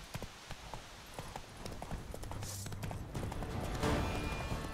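Horse hooves gallop steadily in The Witcher 3: Blood and Wine, a quick run of clip-clop beats that grows slightly louder over the stretch, with faint ambient game noise around it.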